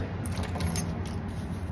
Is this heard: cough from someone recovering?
no